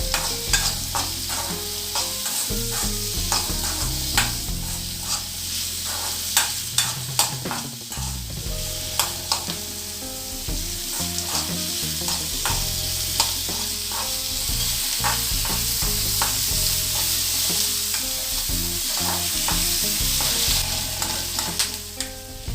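Onion and garlic sauté in a pan with a constant sizzle, while a utensil stirs and clanks repeatedly against the metal, close up, no voices.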